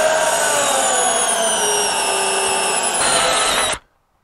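A power drill bores out spot welds on the steel body of a 1955 Triumph TR2 during restoration, a loud close steady high whine that holds for several seconds before cutting off abruptly.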